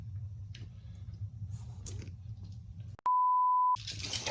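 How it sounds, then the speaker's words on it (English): During a tabletop wargame of Age of Sigmar, a single steady electronic beep sounds for under a second, loud and pure-toned, cutting through a quiet room murmur before chatter resumes. "Beep. First beep of the game."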